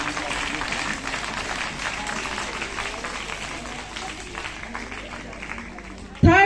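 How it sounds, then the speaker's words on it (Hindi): An audience claps at a school annual prize-giving ceremony in Kansar Bara Gaon, Sirmaur, Himachal. A steady, moderately loud patter of many hands continues under a background of voices and fades a little before a sudden thump at the end. "तालियां बजती रहनी चाहिए।"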